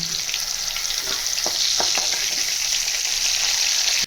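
Loud, steady sizzling of pointed gourd frying in hot oil, with a few faint clicks of stirring.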